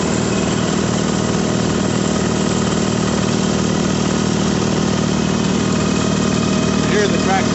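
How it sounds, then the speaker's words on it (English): A tractor clearing a snow drift during a winter storm on Prince Edward Island gives off a steady, droning engine note at moderate distance for several seconds, with wind noise and some talk over it. "You hear the tractor working on it."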